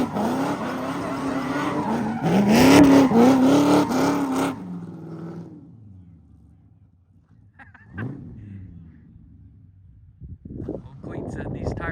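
A blown-up Cummins diesel burnout truck engine roars loudly and revs hard for several seconds, then cuts out abruptly, leaving near silence with faint scattered noises.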